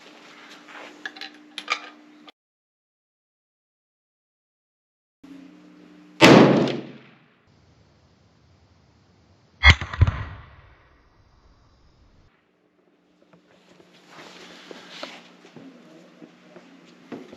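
Two sharp, loud 7 PRC rifle shots crack close by several seconds apart, each one followed by a brief decay, with quiet handling noises in between.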